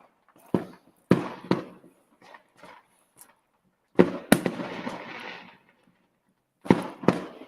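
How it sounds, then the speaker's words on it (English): Bonfire night fireworks bang outside in irregular bursts: single sharp cracks, then a cluster of loud reports with crackling tails around the middle, and a final pair of blasts, with quiet gaps between. "That's what you call fireworks right there"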